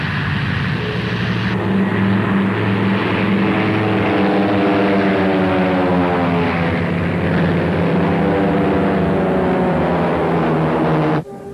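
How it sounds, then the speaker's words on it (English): Bomber aircraft fly overhead toward a city during a wartime air raid, a loud, steady propeller engine drone with a pitch that slowly rises and falls, swelling in and then cutting off abruptly near the end. "Bombers are reported approaching the city from many directions."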